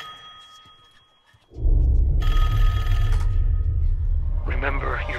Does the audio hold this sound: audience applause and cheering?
no